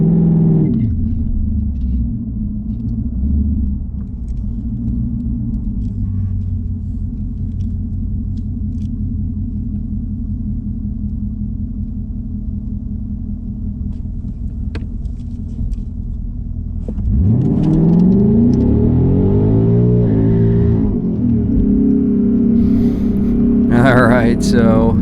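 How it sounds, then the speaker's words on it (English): 2019 Mustang GT idling in drag strip mode with traction control off, a long steady low rumble before a sudden loud launch and hard rising rev near the end as the car accelerates away. "I'm just going to launch it from idle."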